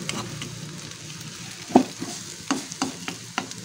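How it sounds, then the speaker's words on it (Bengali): Egg and vegetables seasoned with salt and turmeric fry with a steady low sizzle in a pan, while a spatula stirs and scrapes, giving sharp knocks and clicks every second or so. "একটু হালকা ভাজা করবো"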